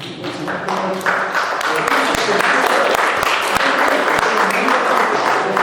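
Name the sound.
audience applause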